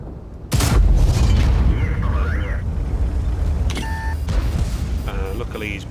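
A loud boom from a tank destroyer's gun in World of Tanks, one heavy blast followed by a rumbling tail and scattered game sounds, close and dominant.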